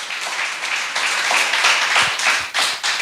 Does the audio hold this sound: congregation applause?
yes